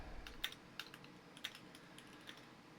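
Quiet typing on a computer keyboard, a handful of separate light key clicks spaced irregularly across a soft, otherwise still room.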